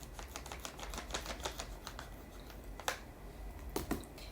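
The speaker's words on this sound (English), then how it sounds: "it's good I have my scissors to open it just a little bit more" Scissors snip open a package of dried fruit such as pear rings, a run of quick crisp clicks and crinkles close up, then a few sharper separate snips.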